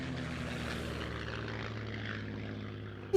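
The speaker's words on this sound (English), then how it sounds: "I can hear another plane coming in as well." A propeller airplane engine in the WWII game Post Scriptum drones steadily overhead, a constant low hum with no voices.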